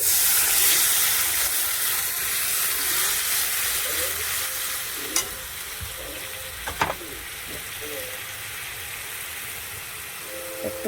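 Whisked yogurt goes into fried fish masala in a pan and sets off a broad, steady steam-like hiss and sizzle that slowly eases, with a few sharp clicks of a spoon against the pan partway through.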